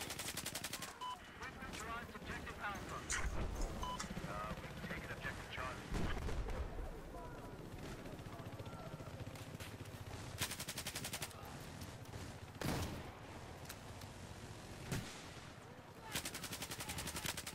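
The Swedish CBG MS gun fires in a video game, with repeated bursts and single shots in dense clusters through the stretch, while players talk over it fairly constantly.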